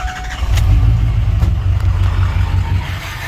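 Ford Powerstroke 6.0 diesel pickup truck with a KC turbo, dual 6-inch straight pipes and injector stiction, starting up: a loud, deep rumbling engine roar close by, steady and throbbing with rough low-end pulses, no talking.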